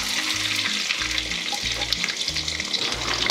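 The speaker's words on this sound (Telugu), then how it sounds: "సో ఆయిల్ వేగిపోయింది, ఇప్పుడు ఉల్లిపాయలు వేసుకుందాం" Onions crackle and sizzle in plenty of hot oil for a Rela flower curry, a dense, close, steady frying hiss over low, regular thumping bumps.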